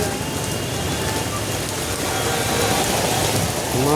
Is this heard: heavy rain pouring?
yes